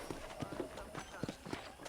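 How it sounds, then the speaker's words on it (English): Horse hooves clip-clop in the Red Dead Redemption video game, a soft steady rhythmic trot under continuous speech and ambient background noise. "I picked out a fine horse for you."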